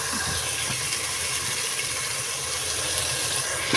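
Broad, steady sizzle of spices and ginger frying in hot oil for a tempering, a continuous close hiss with no pauses and no talk over it.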